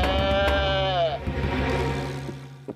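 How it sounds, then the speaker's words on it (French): A cartoon sheep's bleat rises loud and wavering at the start, then fades into a thinner, quieter tail over faint background sound and music. "Le mouton."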